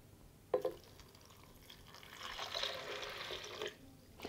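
Water pours into a container while homemade date and nut milk is being made, a steady, moderately faint stream that follows a couple of small clinks, with no talking.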